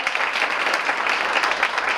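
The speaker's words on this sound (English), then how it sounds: "Let's give her a huge round of applause." Steady applause from an audience at a launch event for a college and school district academy, dense and sustained for the whole stretch, honoring a school district director.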